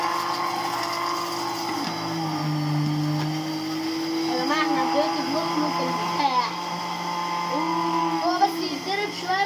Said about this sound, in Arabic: هنشغل عليه الخلاط واحنا بنحط الزيت